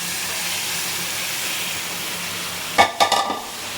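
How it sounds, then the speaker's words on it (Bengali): Water added to a pan of frying food, a hissing background of frying suddenly bursting into loud, close sizzles and spits that quickly die down. "এবার জল দিয়ে দেব"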